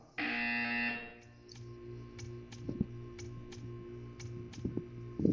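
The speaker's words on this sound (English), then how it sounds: "You will hear a buzzer. When you hear the buzzer, stare at the art." A loud electronic buzzer in the video game Portal 2 sounds for about a second, followed by quieter repeated clicks and soft ticking.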